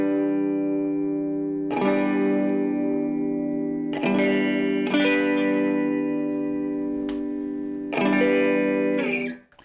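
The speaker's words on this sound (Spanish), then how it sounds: "Utilizo un poco de chorus, bueno, más bien mucho chorus, y utilizo un hall reverb, ese sí no tan exagerado." An electric guitar runs through a Cryon drive pedal set to light overdrive, with heavy chorus and hall reverb, playing sustained ringing chords that restrike about every two seconds and wash together, loud and without talk.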